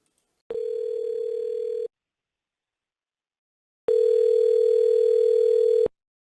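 A phone call to a plumbing service's automated AI line rings out as two steady electronic ring tones, one about a second and a half long and the second about two seconds, separated by silence and heard clearly on their own.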